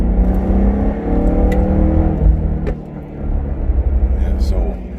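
A BMW E92 M3 on a KW HAS suspension kit drives with a low engine rumble and tire roar, rising briefly as it accelerates, while people talk over it inside the car.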